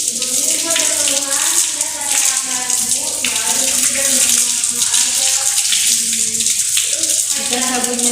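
Running tap water splashes steadily over soapy hands being rinsed during a handwashing demonstration in a medical check-up setting, a loud continuous close-up gush throughout.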